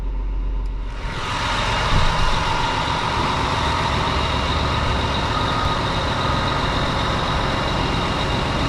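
A dump truck engine turns over and settles into a steady, loud, close-up running drone that holds unchanged for several seconds on a heavy equipment site.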